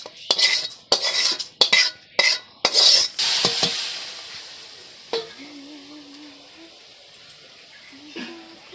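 Food frying in a pan while dal and spiced potatoes cook nearby: loud clattering stirring knocks for the first few seconds, then a softer steady sizzle with a faint whistling tone beneath.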